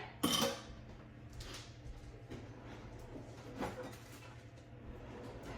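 Kitchen utensils clatter as a whisk is set down among them while baking, with one sharp close metallic clink at the start, then faint scattered knocks over a steady low background hum.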